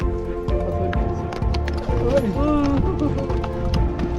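Rhythmic hoof clops of horses walking on a trail on the Pico de Orizaba volcano, fairly close, under a busy mix of voices and outdoor noise.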